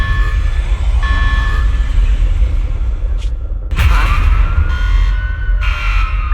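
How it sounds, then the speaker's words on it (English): A security alarm siren in the video game Zenless Zone Zero sounds loud steady tones that swoop and rise partway through, over a dense electronic background hum. "As long as we don't trigger the alarm"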